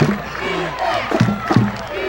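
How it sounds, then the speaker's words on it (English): A crowd at a high school football game, a 2001 Kingsway vs. Hammonton playoff final, cheers and shouts in short loud bursts, voices rising and falling close to the microphone. "Here you see the good crowd on hand for this one."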